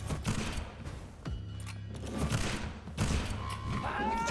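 Rapid bursts of gunfire in the game Vampyr crackle over a busy mix of effects and voices, several shots clustered together.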